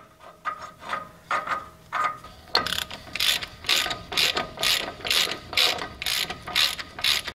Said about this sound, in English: Now we can install the outer lock nut.